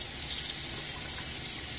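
Running tap water rinsing a Rockwell 6S safety razor at a sink, a steady hiss of flowing water, close and alone for under two seconds.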